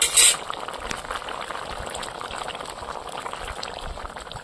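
Curry with ground cumin paste, part of a duck egg and cauliflower dish, bubbles steadily in a pot, a continuous close simmering fizz and pop after a brief louder sizzle at the start.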